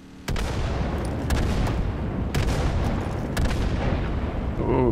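Explosions and gunfire in the video game Far Cry 5 make a dense, continuous rumble with repeated sharp booms and cracks, loud and sustained throughout.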